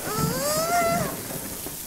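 Heavy rain pours during a storm in a children's cartoon, a steady hiss with a gliding tonal whine layered over it.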